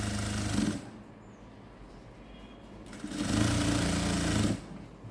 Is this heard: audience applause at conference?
no